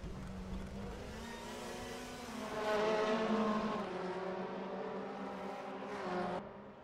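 Race cars scream past at speed on the Macau street circuit, engine notes rising and falling as they slipstream and pull out to overtake, loud and continuous with no talk.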